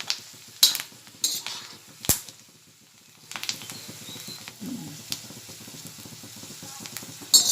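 Fried peanuts scooped out of a hot tava, with a lowered gas flame, giving scattered metallic scrapes and clinks of a spoon against the pan over faint sizzling oil, in irregular bursts.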